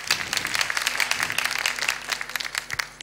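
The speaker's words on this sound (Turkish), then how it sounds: "O zaman alkışlar" A studio audience at a Turkish folk song show claps in a lively, uneven burst that fills the room, then gradually thins out, with a faint hum underneath.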